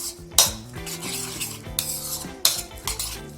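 Maggi noodles being stirred with masala mix in a pan, with clinking utensil strikes against metal and scraping under a background music bed.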